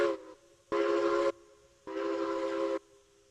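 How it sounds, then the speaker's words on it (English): Two loud blasts of a steam locomotive whistle in the Railroads Online video game, a short one then a longer one, each a steady chord standing alone over a quiet idle. "3 whistles to back up."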